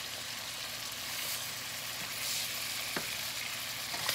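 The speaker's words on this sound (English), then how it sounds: "Now we're gonna let it fry up some more on the other side" Catfish fillets fry in a pan of hot oil with a steady, continuous sizzle and a few sharp pops and crackles.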